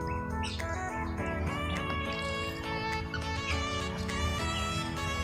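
Pet ducklings peep in a dense, continuous chorus of high chirps that stays loud and steady throughout, with no talking.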